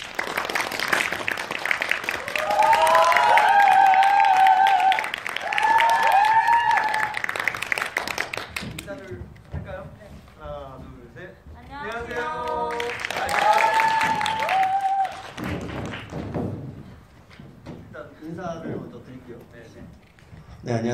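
An audience at a Korean film talk event applauds to welcome the director and actors, with sustained loud clapping that fades, then swells again between stretches of amplified speech in a hall.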